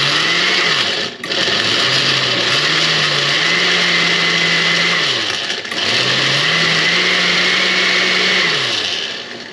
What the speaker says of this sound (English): Once we get it moving, it'll start to blend a lot easier.